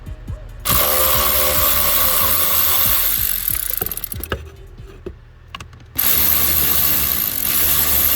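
A hand ratchet with a 5.5mm socket works screws loose on a Cadillac blend door actuator, giving loud bursts of rapid clicking separated by a quieter stretch with scattered single clicks, heard up close.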